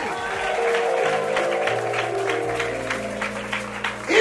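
Sustained clapping from a worship congregation over held musical tones, loud and steady, with a few stronger bursts toward the end.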